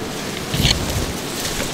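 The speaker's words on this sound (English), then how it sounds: "Now it's starting to rain." Rain begins falling over brush during a bushwhack, a loud, dense wash of patter with a brief swell of rustling near the middle, steady and close throughout with no talking.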